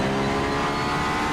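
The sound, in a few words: race car engine in Assetto Corsa video game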